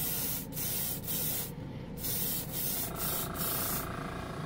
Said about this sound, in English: We're going to go in for a nice slower and closer final coating here.